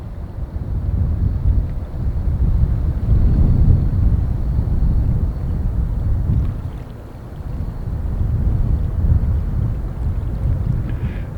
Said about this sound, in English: Boy, the wind is really swirling.